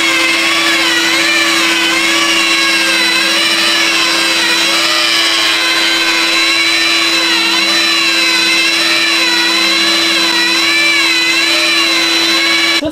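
A steady, loud motor whine with a wavering pitch runs without a break, a rotary polisher working compound into car paint at close range.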